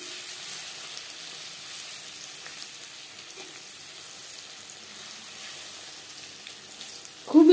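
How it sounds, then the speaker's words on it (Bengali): Cauliflower pakoras fry in hot oil with a soft, even bubbling sizzle that holds steady throughout, and a short louder clatter comes at the very end. "একটা সাইড ভাজা হয়ে গেলে অপর সাইডটা উল্টে দেব।"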